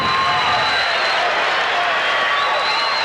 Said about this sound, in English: That crowd noise is for the final over there in Division 3.